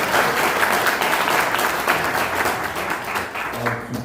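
Audience applause at a year-end church gathering rolls on as a loud, dense wash of many hands clapping, steady at first and gradually easing toward the end.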